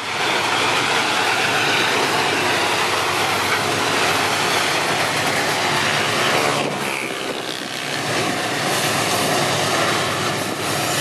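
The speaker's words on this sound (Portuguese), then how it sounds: "o helper aí com a locomotiva C30 e a C44i no apoio aí na composição" MRS freight train with C30 and C44i locomotives climbing the Canguera ramp, a loud, continuous rumbling roar of engines and rolling wagons, steady throughout with a brief dip and shift partway through, and no talking.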